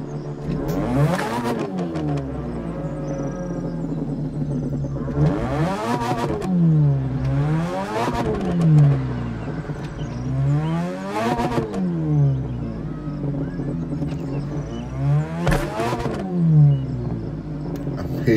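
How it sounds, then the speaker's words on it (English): A Mazda RX-3 in The Crew Motorfest idles with a rough, lumpy burble and is revved repeatedly, each rev sweeping sharply up and falling back, about five rises in a steady rhythm, loud and close. "This is a Mazda RX-3. Let's hear the idle one more time before we go."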